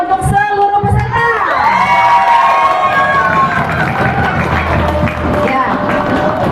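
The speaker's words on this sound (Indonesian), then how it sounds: "kita berikan tepuk tangan yang meriah untuk seluruh peserta" A crowd cheers, whoops and shouts at a teachers' quiz contest for a Hari Guru celebration, loud and continuous throughout with excited voices and some whistling tones; individual claps are hard to pick out beneath the roar.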